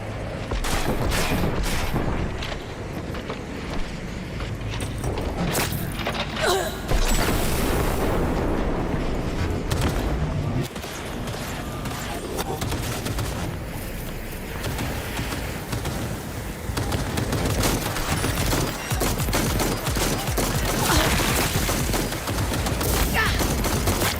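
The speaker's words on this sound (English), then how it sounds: "Oh, shooting." Gunfire in the video game Cyberpunk 2077, with dense, continuous bursts of shots and explosive blasts, loud and sustained throughout, changing in intensity as the firefight goes on.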